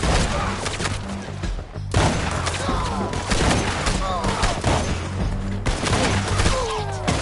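Heavy gunfire in Red Dead Redemption 2, a loud, almost unbroken barrage of overlapping shots and thuds, with shouting voices cutting through the din.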